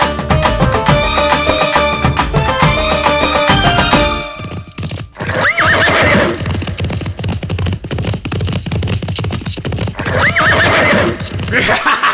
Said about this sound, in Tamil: கடல் அலையில் தாண்டி பாய்ந்து வருவது வெள்ளக்குதிரை